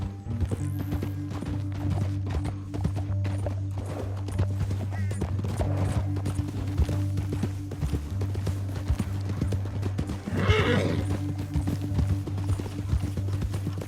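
Horses in the video game Red Dead Redemption 2, a steady clip-clop of hooves over dirt in a canyon with an occasional snort or whinny, running on under a constant low droning musical hum.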